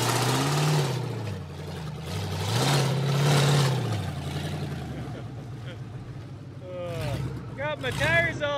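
Ford F-150 truck engine revving hard at wide open throttle while stuck mudding, a loud low roar that rises and falls in surges, with voices talking over it.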